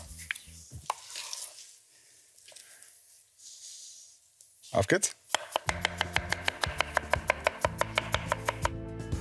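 A knife dices tomatoes on a cutting board in a quick, even run of sharp, close chops, after a brief spoken remark and some quieter kitchen handling.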